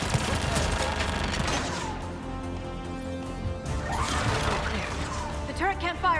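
Turret gunfire in the Mass Effect 3 video game, a dense battle mix of crashing impacts and bursts of automatic fire over continuous background noise and a voice.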